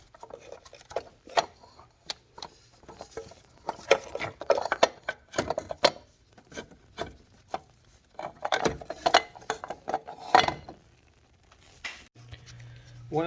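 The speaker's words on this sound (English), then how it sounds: "now I should be able to pull off the whole assembly" Metal parts clink, rattle and scrape as a water pump assembly is pulled off the S54 engine of a BMW E46 M3, in irregular bursts of tool and component knocks with quiet gaps between them.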